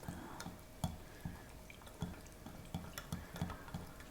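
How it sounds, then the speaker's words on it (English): A whisk stirs a hot chocolate jello mixture in a bowl, making soft, steady rhythmic taps and wet sloshing strokes, close and quiet. "the whisk and I'm just gonna keep stirring"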